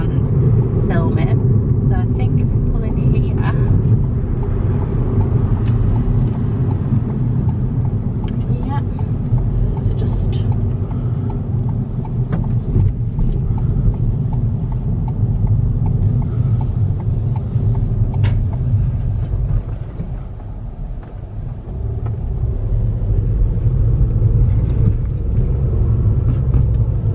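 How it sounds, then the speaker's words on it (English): A car is driven on the road near Oswestry, a steady low engine and road rumble heard from inside the cabin, continuous and loud with a brief dip, under soft talk. "So we're approaching the Lion Quays now. I am driving"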